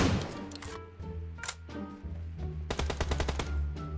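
Rapid bursts of automatic rifle fire in the mobile battle royale game PUBG Mobile, with dense rattling volleys and single sharp shots, some near and loud and others more distant, over a continuous low game background hum.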